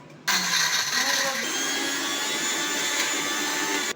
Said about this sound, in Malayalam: ഇഞ്ചി വെളുത്തുള്ളി പേസ്റ്റ് ഉണ്ടാക്കാനായിട്ട് പച്ചമുളകും ഇഞ്ചിയും വെളുത്തുള്ളി എടുത്ത് വെച്ചിട്ടുണ്ട് മിക്സിയിലിടാൻ